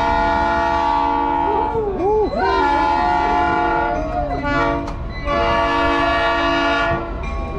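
A train horn blares with long, loud sustained blasts, a short break between them, over the steady rumble of the train starting to move, departing Old Sacramento Station.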